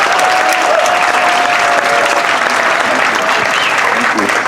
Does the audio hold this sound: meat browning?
no